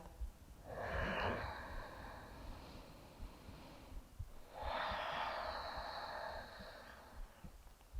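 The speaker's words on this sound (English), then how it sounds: "just following the wave of your breath" Slow, deep breaths during a yoga practice: two long, airy breaths a few seconds apart, near and soft, with quiet between them and no talking.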